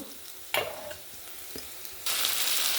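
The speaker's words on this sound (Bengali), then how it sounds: "পেঁয়াজটা ভাজা হয়ে গেছে, এবার এতে এই টমেটো বাটাটা দিয়ে দেবো" Fried onions are sizzling in a pan as tomato paste goes in, and a louder, denser hiss rises toward the end. A few sharp clinks and stirring scrapes are heard close by, with no one speaking.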